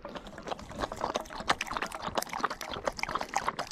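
Water trickles and splashes in small bursts from a Pup Flask pet water bottle with a plunger while a dog drinks, with faint clicks and laps close by and no talking.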